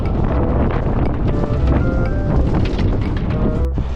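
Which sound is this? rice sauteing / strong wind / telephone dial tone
strong wind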